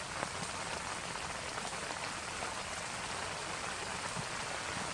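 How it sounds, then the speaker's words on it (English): Steady rain patters down at an alpine lake during a backpacking trip, a dense, even hiss of drops on leaves and surfaces that holds constant and close throughout, with no voices. "It's been raining for a bit now and haven't felt one drop."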